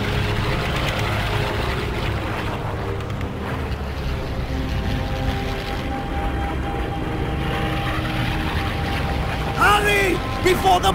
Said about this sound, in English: Wait until the bombers are directly overhead. The sound of the engines will drown out your shot.